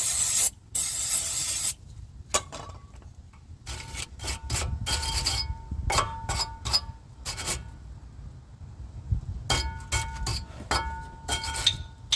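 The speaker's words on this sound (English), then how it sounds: "What is that? Brake cleaner." Brake cleaner hisses in short bursts onto the rear brake parts of a 2012 Vauxhall Astra J, with several sharp close sprays between quieter stretches of rubbing and handling noise.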